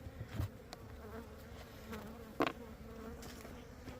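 Honey bees at an apiary bee yard in winter hum as a soft, steady insect drone throughout, with a few brief louder buzzes as individual bees pass close by.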